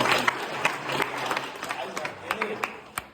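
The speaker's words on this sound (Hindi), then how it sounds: "जोरदार ताली" An audience at a political memorial gathering in India claps in scattered, uneven bursts, a few sharp slaps standing out near and far, with a voice speaking over it.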